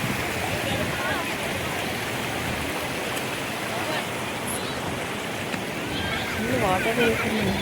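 Stream water rushes and gurgles steadily near a coffee factory, a close continuous wash with faint voices talking underneath.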